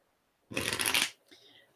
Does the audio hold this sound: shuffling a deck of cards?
yes